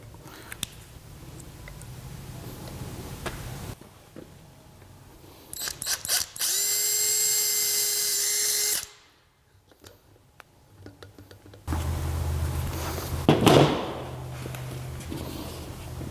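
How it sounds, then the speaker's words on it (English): A power drill bores a hole through a hospital plate and a horseshoe, with a loud, steady whine lasting a couple of seconds amid nearby clicks and handling noises, then a second burst of drilling. "that's where I'm going to drill my hole"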